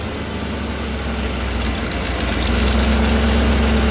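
A Ford Bronco engine fitted with Holley Sniper EFI runs at wide open throttle and hits its rev limiter, giving a loud, steady, close-up engine drone with a rough, pulsing texture and no talking.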